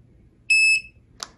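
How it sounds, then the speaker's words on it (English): A single clean electronic beep from a FEZIBO standing desk control panel, high and steady for about a quarter second, followed by a short faint click in a quiet room. "Once you hear that beep, then it's actually set."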